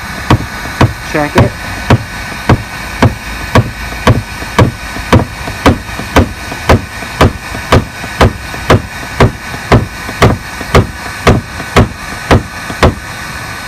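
Hammer knocking out a dent in a car body panel at home, sharp metallic taps in a fast steady rhythm, close and loud, with a brief spoken remark among the strikes.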